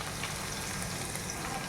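Spices tempering in hot oil for a bitter gourd curry sizzle in a dense, continuous crackling hiss, steady and close throughout, with no voice.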